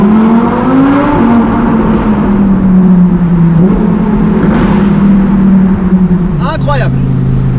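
Lamborghini Huracan Performante V10 roaring loud and close inside a tunnel, engine note climbing and holding steady with a brief upshift, a sharp crackle near the end, and someone talking over the sustained din.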